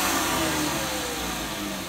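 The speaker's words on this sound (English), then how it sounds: "This is the shop vac using two 6 amp hour batteries." A shop vac runs off a Ryobi 40V 1800W power station (RYi1802B6) powered by two 6 amp hour batteries, giving a loud, steady motor roar throughout.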